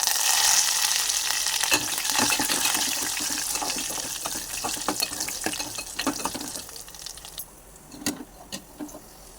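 Cumin, mustard seeds and curry leaves frying in hot oil for a spicy dal rasam, a steady close sizzle with scattered sharp pops and crackles that thin out toward the end, no voices.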